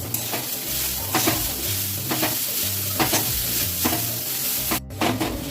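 Grated coconut fries with sugar and salt in a pan, a close, constant sizzle under brisk, rhythmic stirring and scraping throughout.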